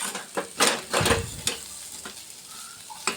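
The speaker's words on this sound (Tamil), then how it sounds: "அப்போ தான் நல்லா கலந்து விட்டுட்டு திருப்பியும் நல்லா சிம்மில் வச்சு ஒரு 2 நிமிஷம் மூடி விட்டுருங்க." Potatoes sizzle in a pan as a spoon stirs them, with several scraping strokes close by over a soft, steady frying hiss.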